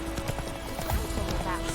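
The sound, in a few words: horse Roach trotting, from video game The Witcher 3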